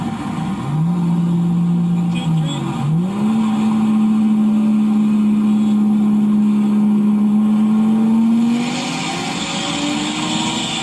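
Race cars roar steadily close by, one engine revving and climbing in pitch through the gears, with a brief dip, and a second engine rising near the end.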